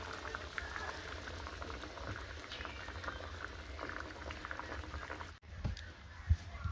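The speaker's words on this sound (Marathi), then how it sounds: "आता 5 मिनिट भाजीला झाकून ठेवायचं आहे आणि बघा कशी उकळी सुटलेली आहे." Egg curry gravy bubbling steadily in a covered pan on an Indian home stove, a continuous close simmering crackle with soft pops, with a brief clatter near the end.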